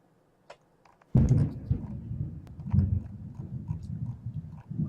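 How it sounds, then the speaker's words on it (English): A sudden loud, deep rumble of thunder breaks in after near silence and rolls on continuously, booming and crackling for several seconds. "Really loud thunder."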